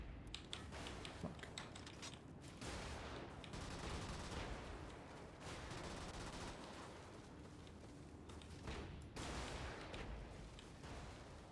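Gunfire in the Brigador video game, a dense and almost continuous barrage of rapid bursts that swells and eases in loudness, with no talking.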